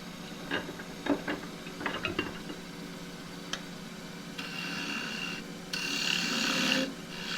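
Small bark-rim bowl turned from firewood-grade wood on a lathe: intermittent scraping and cutting bursts, then longer sustained hissing cuts as the tool takes the piece down, close and fairly quiet.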